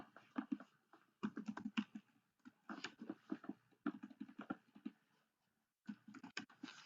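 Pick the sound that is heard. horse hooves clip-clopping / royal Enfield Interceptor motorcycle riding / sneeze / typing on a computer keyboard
typing on a computer keyboard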